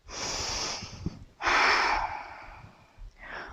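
Strong, forceful breaths during a power yoga twist, two long close exhales with a pause between and a short breath at the end, no speech.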